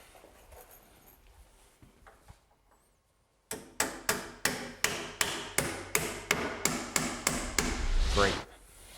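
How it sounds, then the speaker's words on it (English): A hammer nails a framing wall in place with a run of about a dozen sharp, evenly spaced blows, loud and close, after a quieter stretch of faint handling noise. "Let's nail that in place then."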